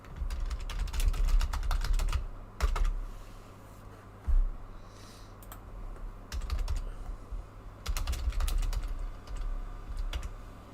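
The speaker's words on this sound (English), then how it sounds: "Arman, I'll type it up." Steady typing on a computer keyboard, close and fairly quiet, with runs of rapid key clicks broken by short pauses and a few louder thumps.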